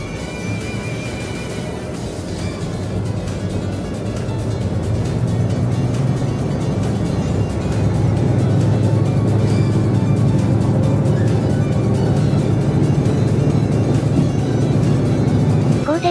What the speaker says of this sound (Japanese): カミンズ製エンジンを鳴らせながら名古屋駅を発車だよ